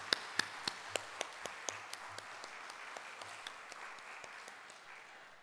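Church congregation clapping a blessing for a family with a child during a Sunday service, a thin, fading round of claps with a few sharp distinct hits at the start, moderately distant in a worship hall.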